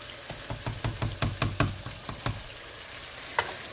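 Onions cooking in a pan for jambalaya, with a steady sizzle and a run of regular scraping or stirring knocks in the first two seconds, then quieter frying with one more clack near the end.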